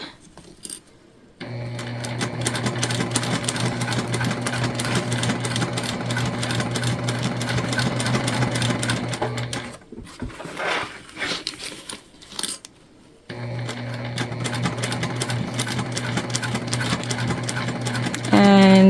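A sewing machine runs steadily, stitching closed the open seam of a lined shoulder bag with a back stitch, pausing briefly mid-run before the motor picks up again, loud and close while a voice talks over it.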